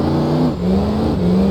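Car engine revving hard in BeamNG.drive, a steady loud drone with rising pitch sweeps, dipping briefly before climbing again, no voices.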